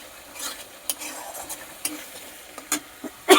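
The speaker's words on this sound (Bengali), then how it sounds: "এবার মশলাটা কষবে, একটু ফুটুক এবার ভালোভাবে।" A masala spice paste sizzles and fries in a pan with a soft, continuous crackle, broken by intermittent scraping clicks of a spoon stirring against the pan.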